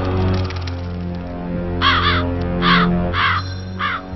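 Cartoon crows caw inside a royal palace: several loud, harsh caws in short bursts over a steady droning background, with no speech.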